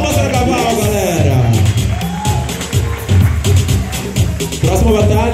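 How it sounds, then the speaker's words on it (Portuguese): At a baby runway event, a crowd cheers, whoops and claps, with shouting and speech babble mixed in and bursts of excitement rising and falling. "Palmas para cavalo, galera."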